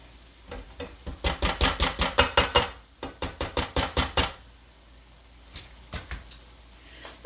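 A Pampered Chef Mix 'N Chop tool pressing down in a pan, a quick run of about a dozen sharp rhythmic chopping clacks, a short pause, then another fast burst of chops, fading into a few scattered taps.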